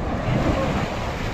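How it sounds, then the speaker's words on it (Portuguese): Ocean waves break against rocks beside a boat off Arraial do Cabo, a loud, continuous wash of surf churning with wind noise across the microphone. "Agora vem as ondas aqui, batendo aqui, entendeu?"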